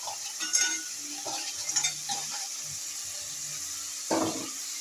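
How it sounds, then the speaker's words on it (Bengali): Live crabs go into oil-slicked fried masala in a home kitchen for a spicy sea crab curry, giving intermittent sizzling and stirring clatter with a louder splash of frying near the end, no voices. "আমি ক্যাকড়াগুলো এবার দিয়ে দিচ্ছি।"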